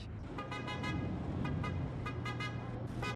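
Several short car horn toots in a quick pattern, honking with brief gaps over a steady engine and road rumble.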